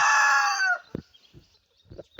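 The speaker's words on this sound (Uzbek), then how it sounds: "Jo'jalar mana bog'da xo'rozim yuribdi" A rooster crows loudly and close by in a garden with chicks and chickens about, the long crow followed by a few soft, scattered clucks and scuffs.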